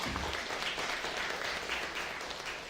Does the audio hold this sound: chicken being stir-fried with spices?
no